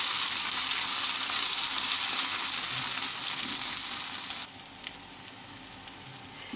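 Sliced onions frying in hot oil until light brown, a dense continuous sizzle that drops to a quieter hiss partway through, with no talk.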